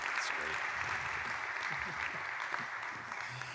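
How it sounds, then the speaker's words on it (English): An audience at a church donor meeting in Houston claps in steady, sustained applause, heard at moderate distance and quite soft overall, with no break for the full stretch. "Let's give these two a round of applause."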